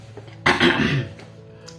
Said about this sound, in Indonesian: orang lain batuk ketika akan memulai pembicaraan misalnya